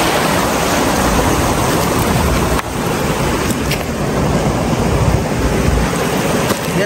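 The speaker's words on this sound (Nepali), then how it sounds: "यो खोला बढ्नेछ।" A rain-swollen hillside stream rushes in a loud, steady, close roar of flowing water that holds constant throughout, with light wind buffeting.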